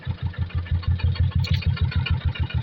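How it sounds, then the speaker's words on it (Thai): A farm tractor drives along a flooded residential lane during storm flooding. Its engine gives a steady, close chugging with a fast, even low-pitched pulse throughout, and no voices are heard. "มีรถไถมาในซอยเราซอยบ้านเรา"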